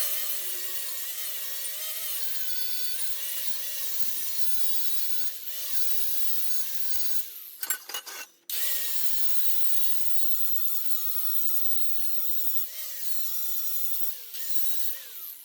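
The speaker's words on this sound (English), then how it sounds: "get the grinder and clean up some of the splatter." An angle grinder cleans weld spatter off scrap steel for a truck hitch mast mount, grinding loud and close with a sustained whine that shifts pitch as it bears down, broken by a brief pause partway through.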